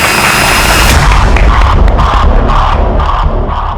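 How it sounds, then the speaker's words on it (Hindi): A loud crowd roaring and cheering to welcome a speaker, dense and continuous noise filling the whole stretch with no pauses. "तो जोरदार तालियों से स्वागत कीजिए आप सभी के क्रांति दूत विप्लव का।"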